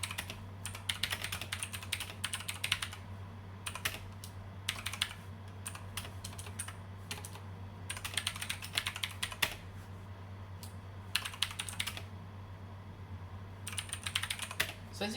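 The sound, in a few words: typing on Five Below blue switch mechanical gaming keyboard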